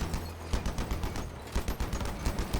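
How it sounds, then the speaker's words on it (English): Rapid, dense bursts of video game gunfire aimed at a ball on a test range, with sharp overlapping shots running continuously and loudly for the whole stretch. "Let's actually shoot the ball, see what kind of damage numbers we can get when the perk is active."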